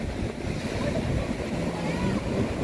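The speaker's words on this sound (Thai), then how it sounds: "ทะเลของสงขลา บรรยากาศตอนเช้าค่ะ วันนี้คลื่นลมแรงมาก" Sea waves and strong wind on Songkhla beach on a morning with heavy surf, near Ko Nu and Ko Maeo, giving a continuous loud roar of surf and buffeting wind noise with no talk.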